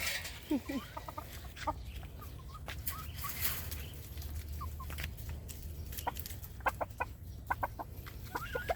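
Farm chickens at a breeding area, including a young rooster, give scattered clucks and short calls at moderate distance over a steady low background hum, with faint talk in the distance.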